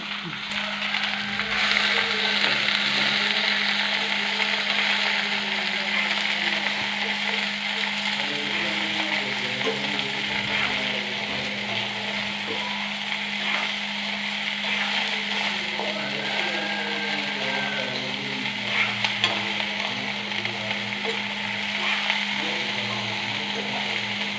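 Mixed vegetable upperi with mustard seeds stir-fries in a pan, giving a steady close sizzle with soft scraping stirs over a constant low hum throughout.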